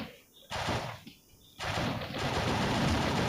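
Rapid automatic gunfire from the mobile shooter game Mini Militia, heard as two short bursts followed by a longer, continuous volley, loud and close with no voices.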